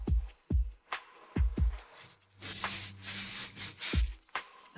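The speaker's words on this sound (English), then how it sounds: "Applying the acerbal spray" Short bursts of hissing herbal spray between soft thumping knocks, with a rubbing rustle in the middle; fairly close and moderately loud.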